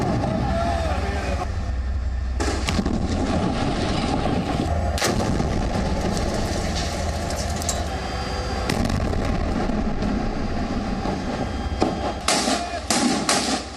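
Repeated heavy blasts and rumbling explosions from bombing during an Israeli military operation in Gaza, loud bursts recurring over a continuous roar with sharp cracks near the end.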